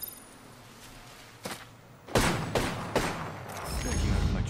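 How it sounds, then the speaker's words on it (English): Gunfire in the Apex Legends video game: several sharp broadband bursts over about two seconds, loud and close, over a steady game background with faint talk. "I'm getting shot"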